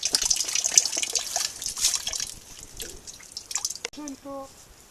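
Spring water dripping and trickling steadily as it is collected, with a person talking nearby over it.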